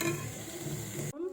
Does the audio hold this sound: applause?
no